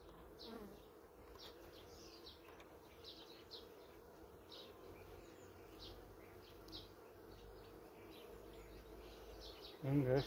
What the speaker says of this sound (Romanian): Albinuțele.